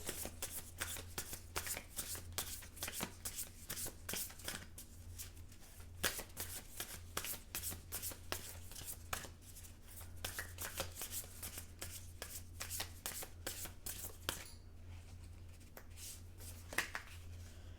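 Oracle-style cards are shuffled at length for a card reading, a close, rapid run of papery riffles and flicks that goes on steadily before a short pause and a few final taps.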